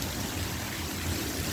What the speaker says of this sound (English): It's hailing for the second time this summer, which is unusual for this part of Arizona anyway. But it's like a torrential downpour.